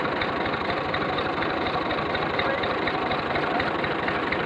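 A tractor engine runs steadily, driving a Punjabi charkha at a new borewell, with a dense, continuous low rumble and chugging that holds at an even level close by throughout.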